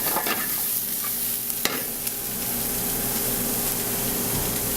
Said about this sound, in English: I'm set up the base with celery, onion, ginger, garlic. Let that cook up.